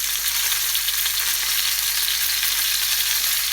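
Chicken-stuffed eggplant frying in a pan gives a loud, dense, continuous sizzle of hot oil that holds steady and close throughout, with no talking.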